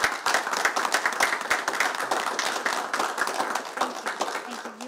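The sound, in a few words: meeting audience applause for a departing director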